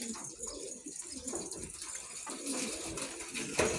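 Pigeons coo softly at a coop, low murmuring calls repeating under a faint background of rustling and distant noise.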